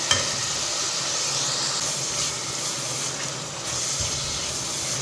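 Tomatoes softening in a pan for a mixed vegetable sabzi with chili and spices stirred in, giving a steady close sizzle and frying hiss with soft stirring scrapes, no voices.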